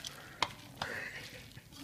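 A large batch of thick, cheesy mac and cheese being stirred in a pot, giving a few soft, wet squelching strokes at close range with faint sizzle-like texture between them, no talk.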